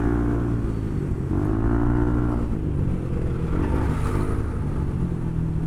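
A car engine with a big exhaust rumbles steadily and revs up in two rising swells, heard close and fairly loud on a road in Batangas.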